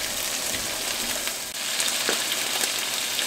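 Beef chorizo sizzles steadily in a hot pan for breakfast burritos, a dense, even crackle with a small clatter partway through.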